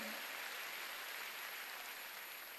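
A church congregation at a Sunday prayer service applauds, a faint, steady, hissy wash of many distant hands clapping, with no voices over it.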